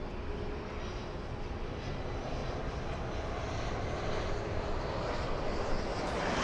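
A Philippine Airlines Boeing 777, flight 113 to Manila, roars steadily at LAX, a broad continuous engine rumble that holds at a constant loud level with no voices over it.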